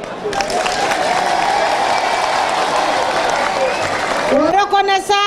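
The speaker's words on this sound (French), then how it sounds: "s'il vous plaît, applaudissez pour eux." Crowd applauding a political delegation (RPG) at a rally in Mamou, a broad sustained wash of clapping filling most of the clip before a voice comes in over it near the end.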